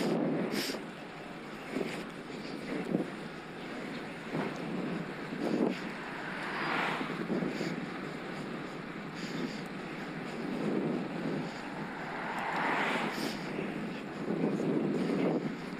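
Wind roars across the microphone while riding a Scott Addict RC e-bike with a Mahle X20 motor into a headwind, gusting rushing noise that swells and fades throughout.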